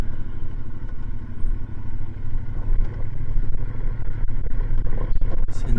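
450 motorcycle engine while riding on a rand'armagnac trail ride, a loud, continuous rumbling drone with rough clattering texture, close and steady throughout with no voices.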